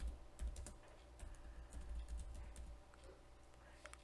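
Fingers type a MySQL query on a computer keyboard in a steady run of soft, close key clicks, with a low background hum and no talk.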